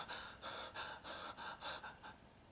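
A person imitates scared breathing in a drama lesson, making a quick series of about eight sharp, airy gasps in a regular rhythm, close and fairly loud, fading slightly toward the end.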